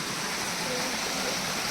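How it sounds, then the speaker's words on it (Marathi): A forest stream flows near a temple in the woods, giving a steady, close, broadband rushing of water that continues evenly throughout. "ओढा पण आहे इथे"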